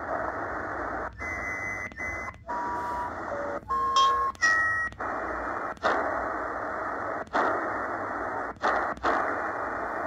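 A Choyong LC90 smart shortwave radio on lower sideband with an external loop antenna being tuned, giving steady hiss broken by short dropouts and scattered beeping tones and whistles as the dial moves.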